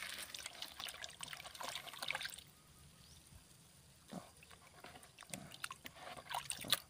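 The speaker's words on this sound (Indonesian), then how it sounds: "Kita aduk sampai rata, benar-benar dia larut sempurna." Liquid micronutrient fertilizer and boron crystals are stirred into water in a tank, making soft, uneven sloshing and trickling in bursts, with a quieter pause in the middle.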